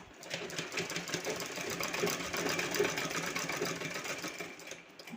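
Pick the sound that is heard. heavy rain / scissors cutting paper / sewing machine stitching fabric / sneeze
sewing machine stitching fabric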